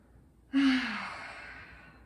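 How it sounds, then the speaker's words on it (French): A single deep breath during a yoga flow session, a sharp intake at half a second followed by a long, audible mouth exhale that fades slowly over about a second and a half, close and alone without talk. "on prend une grande inspiration et on expire par la bouche"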